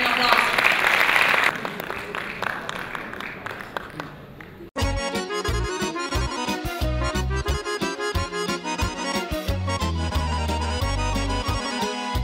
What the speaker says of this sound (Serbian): Pozdravite velikim aplauzom.